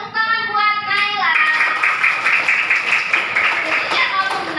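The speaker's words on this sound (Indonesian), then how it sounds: "Tepuk tangan buat Naila." Schoolchildren in a fourth-grade classroom clapping for a classmate, a burst of rhythmic, fairly loud group clapping that starts just after a teacher speaks and continues to the end.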